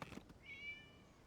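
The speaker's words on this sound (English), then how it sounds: "It was just a cat." A cat meows once in a video game, a single drawn-out mew rising over faint background ambience, preceded by a few brief soft knocks.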